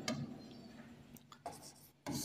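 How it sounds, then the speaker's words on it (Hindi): A pen writes an equation on paper in close, quiet scratching strokes, several short bursts separated by brief pauses. "यही लिखते हैं समीकरण"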